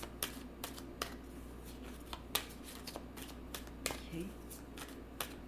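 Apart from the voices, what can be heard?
shuffling oracle and tarot cards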